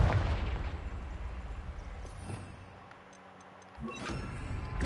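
Fiery Confringo spell blasts in Hogwarts Legacy: a heavy, booming burst at the start, a quieter rumbling lull, then another loud explosive crack near the end, with no talking.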